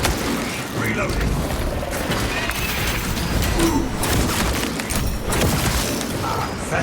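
Weapon being reloaded in Warhammer 40k, a steady run of mechanical clacks and ratcheting clicks with a dull boom, set in a dense, continuous wash of battle noise throughout.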